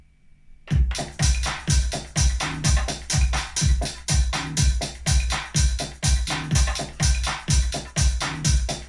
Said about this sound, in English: When 2 beats are not matched correctly, it will sound like this.